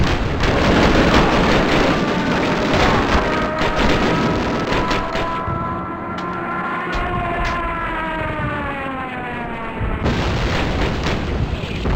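Mortar rounds and explosions in a Call of Duty battlefield scene, with loud booming blasts and dense rumble throughout, plus wavering siren-like tones in the middle, alone without talk.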